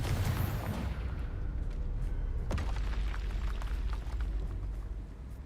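A Confringo spell explosion in the game Hogwarts Legacy, a deep rumbling blast with a sharp crack partway through, followed by a lingering low roar that stays loud to the end.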